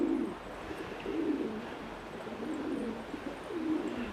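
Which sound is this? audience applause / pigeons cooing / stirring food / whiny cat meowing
pigeons cooing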